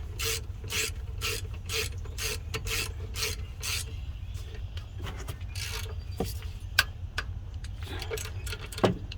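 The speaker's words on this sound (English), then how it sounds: "Then you just tighten down bracket bolts." Ratchet working on the brake caliper bracket bolts of a 2012 Subaru Legacy during a rear brake job, a steady run of repeated rasping clicks through the first four seconds, then scattered clicks and metallic knocks, close up with no talk.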